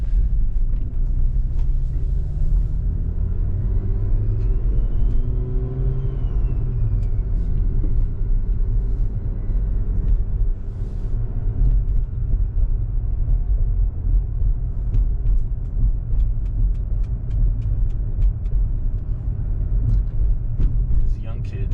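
Turbocharged BMW with a B58 engine and a Mac boost solenoid pulling hard at full throttle: a close, heavy engine rumble rises in pitch and then holds a sustained roar for about twenty seconds.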